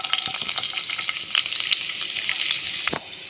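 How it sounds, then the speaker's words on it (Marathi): Garlic frying in a little oil in a pan on a gas stove, bright continuous sizzling crackle with occasional stirring scrapes, close and fairly loud, no talking. "आनी ती लसूणूय बरी फ्राय कोता"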